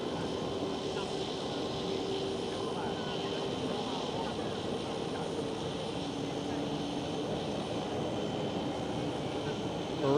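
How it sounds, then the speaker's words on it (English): A KLM Boeing 787 airliner passes at Amsterdam Schiphol, a steady continuous engine rumble and whine filling the scene at moderate distance while a voice talks faintly over it. "There goes the KLM 787"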